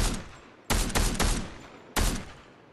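Cobra DMR firing in Fortnite, a handful of loud, sharp gunshots in a quick burst with short echoing tails and a later single shot.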